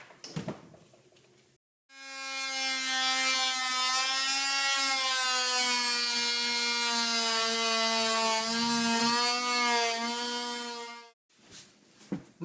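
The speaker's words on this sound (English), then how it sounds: "let me cut this out right now with what, like I said, this right angle oscillating tool" A right-angle oscillating tool cuts out a tongue-and-groove floorboard, a loud, steady high buzzing whine lasting about nine seconds, with brief quieter handling noises before and after.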